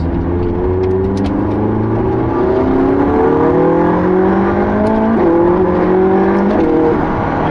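A McLaren 675LT engine revs loudly up through the gears, its pitch rising in repeated climbs with brief drops between shifts, heard from inside the car.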